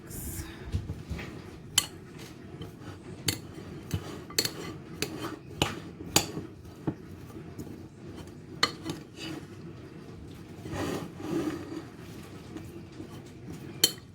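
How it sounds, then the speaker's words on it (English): Chopped vegetables, including yellow pepper, are tossed and stirred in a bowl. Irregular clattering knocks and scrapes of a utensil against the bowl repeat at close range, with quieter rubbing in between. "I'm just going to give that a mix."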